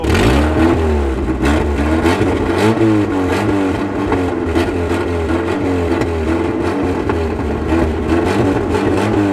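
A Nissan S13 with a new exhaust revs hard and close, its engine note rising and falling in repeated throttle blips over a steady, loud rasp with no talking.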